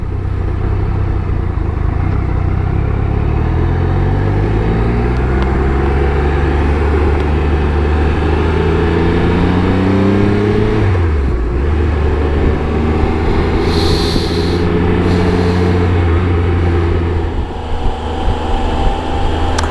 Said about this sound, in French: comme je roule doucement on entend un peu mieux le moteur